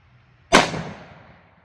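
A single sharp report from a .357 Sig pistol firing Underwood 90gr Xtreme Defender ammunition into a gel block from 15 feet, a loud close crack that rings and decays over about a second.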